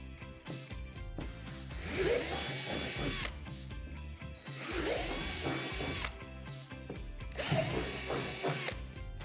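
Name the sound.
power drill drilling holes in plastic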